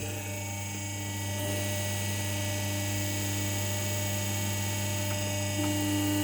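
A hydraulic press fitted with a new hydraulics kit on an OKS 1671M frame runs with a steady, loud tonal hum and drone, unchanging throughout.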